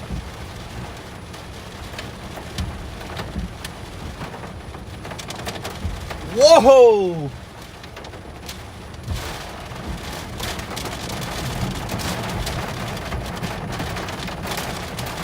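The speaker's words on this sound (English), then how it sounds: "look at the rain curtains in front of us" Heavy storm rain pours steadily throughout, with a faint man's exclamation partway through.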